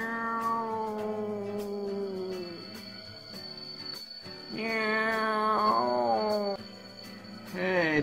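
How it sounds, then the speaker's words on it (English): A cat stuck in a tree gives loud, close, drawn-out wailing meows, one long plaintive call followed by two more rising, strained cries, with little else around them. "there's a cat stuck in a tree over there."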